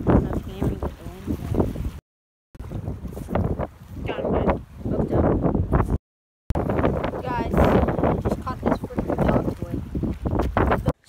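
Gusty wind buffets the microphone outdoors on the water during a fishing trip from a boat, a steady rough roar that breaks off briefly twice, with a voice talking through it.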